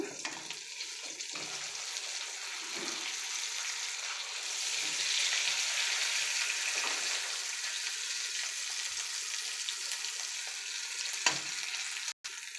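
Chandwa fish fries in hot oil with a steady, close hiss of bubbling and sizzling that runs throughout, a faint voice in the background and a sharp click near the end.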